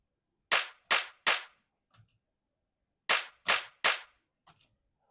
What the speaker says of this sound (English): And then the claps, they do the same thing.